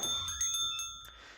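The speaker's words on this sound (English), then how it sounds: "the old-fashioned doorbell behind us rings behind us, signaling the staff that customers are here" Old-fashioned cafe doorbell from the visual novel Hoshizora no Memoria rings with bright, repeated jingling strikes that ring out and fade over about a second.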